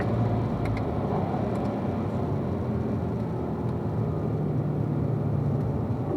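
A car on a race track brakes and drops down to fourth gear, the engine a loud, steady roar throughout with no voices over it.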